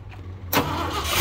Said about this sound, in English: she got an exhaust leak